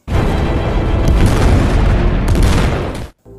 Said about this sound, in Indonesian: Bert menyalakan dan melempar sebuah dinamit sehingga ledakan tidak bisa